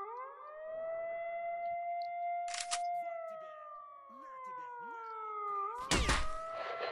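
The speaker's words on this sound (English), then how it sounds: "Here come the sirens." A siren wails in long rising and falling tones in S.T.A.L.K.E.R.: Shadow of Chernobyl, joined by a short burst of noise midway and a louder crash near the end.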